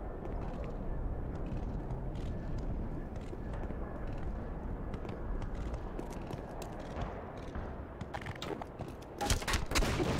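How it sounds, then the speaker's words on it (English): Distant gunfire from the video game Black Mesa crackles as a dense, muffled, continuous rumble of low bursts, with sharper cracks near the end. "I think it's meant to be like distant gunfire"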